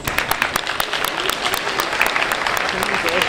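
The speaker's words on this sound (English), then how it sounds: "give yourselves a round of applause" Participants of a youth science program in East Chicago, Indiana, applaud themselves, a lively, close burst of many hands clapping with crisp individual claps, voices faintly mixed in beneath.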